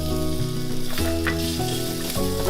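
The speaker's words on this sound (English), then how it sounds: "I'm gonna add a little more olive oil, and we're gonna saute our garlic." Garlic sautés in olive oil in a skillet over medium heat, giving a loud, steady close-up sizzle with light stirring clatter.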